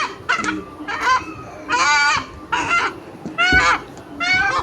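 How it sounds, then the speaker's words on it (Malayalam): Four chickens, a rooster among them, being packed into a delivery box let out loud, close clucks and squawks in repeated bursts with short pauses between them. "മൊത്തം നാല് കോഴികളെയാണ് നമ്മൾ ഇപ്പോൾ ഈ ബോക്സിലോട്ടാക്കിയിട്ടുള്ളത്"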